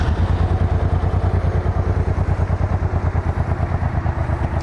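A Suzuki Boulevard M90 motorcycle engine idles steadily with a fast, even chugging rhythm, loud and close throughout.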